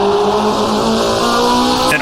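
A 1970s Formula One car in the rFactor2 racing game howls at high revs, its engine note climbing steadily through a gear, loud and close, with a brief tire-scrub sound at the end and someone talking over it.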